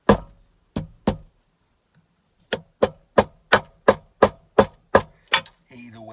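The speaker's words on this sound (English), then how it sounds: "or I just hit it with the sharp end of my hammer" A hammer's sharp end strikes a piece in a steady series of hard, ringing knocks, about a dozen close blows with a short pause after the first three, then a faint rattle trailing at the end.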